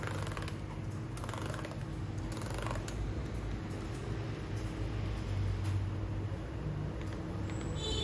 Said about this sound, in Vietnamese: Em test bàn phím cho mình ạ.